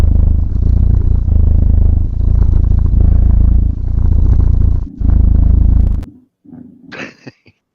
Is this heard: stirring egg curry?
no